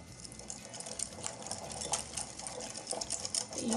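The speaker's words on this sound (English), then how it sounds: "gonna whisk this all together." Crawfish poke dressing whisked together in a bowl, a quick continuous clatter of whisk wires against the bowl with wet swishing, close and steady throughout.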